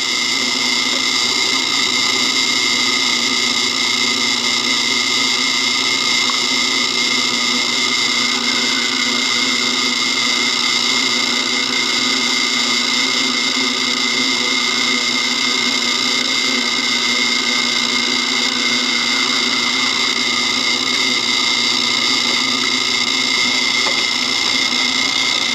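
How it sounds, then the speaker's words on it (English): A power drill runs steadily, boring a small hole in a router base being modified for sign carving, a continuous close whir with no talk over it. "We're just going to drill that tiny hole"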